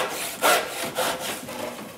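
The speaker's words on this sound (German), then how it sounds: "Dass wir jetzt eigentlich hier Zinken-Schwalbenschwänze machen" A hand saw cuts through wood in a traditional joinery workshop, making dovetail joints for a bed; long, loud rasping strokes repeat in a steady back-and-forth rhythm, close up with no talking.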